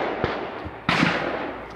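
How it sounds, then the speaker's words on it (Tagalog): A Beretta semi-automatic shotgun fires at clay targets on an outdoor range, giving two quick, sharp blasts a little over half a second apart. The second is louder and trails off into a fading rumble. "Auto shotgun. Semi-auto."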